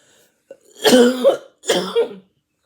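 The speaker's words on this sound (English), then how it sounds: "sorry for the coughing" Two rough, harsh coughs close by, a short burst followed by a second after a brief pause, with no talking.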